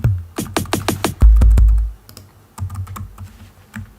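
A computer keyboard played as a musical typing controller, with a quick run of sharp close key clicks, a heavier thump, then scattered lighter taps.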